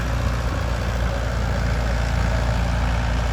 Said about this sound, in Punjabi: ਟਰੈਕਟਰ ਸੈਟਿੰਗ ਕਰਕੇ ਚੱਲਦਾ